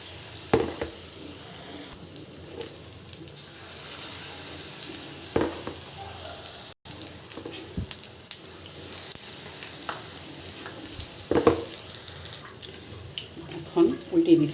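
Eggplant chops sizzle steadily in shallow oil in a pan on the stove, a continuous hiss with occasional louder spatters and clinks, close and moderately loud, with no talk over it.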